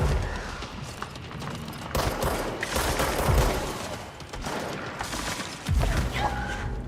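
Gunfire in the game Control, sustained rattling volleys with several louder bursts and booming impacts, moderately loud amid ambient game noise.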